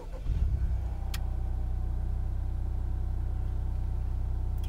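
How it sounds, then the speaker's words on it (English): A 10th-gen Honda Accord engine fires up with a short crank and a quick rise in revs, then settles into a steady, close, even idle hum. "So I'm going to go ahead and start the vehicle up."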